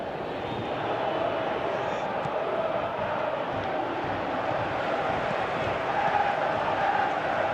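Stadium crowd noise in a football video game, a Senegal match, holds as a constant broad roar with a slight swell near the end, with no commentary heard over it.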